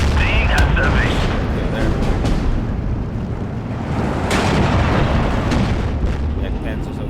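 Dense, continuous battle din from Steel Division 2 as tanks are destroyed, heavy booms and rolling gunfire blending into a loud, unbroken roar with scattered sharper cracks throughout.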